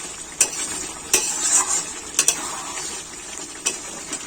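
Chicken frying in a pan sizzles softly under a few sharp scraping knocks as a utensil stirs it, the strokes coming irregularly and close, with no talk.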